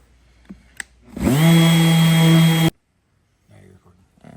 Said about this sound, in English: Now I'm going to finish sanding it up